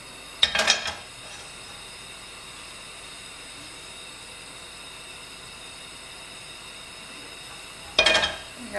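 Eggs frying in very hot oil in a pan for fried rice, a soft steady sizzle throughout, with two short sharp clatters of utensils near the start and end.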